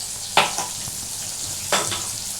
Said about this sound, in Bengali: এটাকে একটু ভালো করে একটু ভাজবো। এটা একটু ভালো করে নাড়াচাড়া করতে হবে